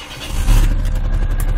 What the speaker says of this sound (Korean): 뭐 엔진 소리가 나쁘거나 그러지도 않습니다.